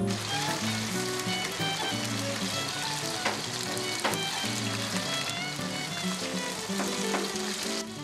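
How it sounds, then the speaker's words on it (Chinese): Pork ribs, seasoned with scallion, ginger and garlic, sizzle and fry in a hot wok, a dense steady crackle with occasional stirring clinks, close and continuous throughout with no talk. "放到鑊度煎到兩面擦擦，充滿嘅香味"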